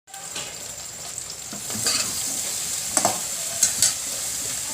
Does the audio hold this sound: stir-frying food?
yes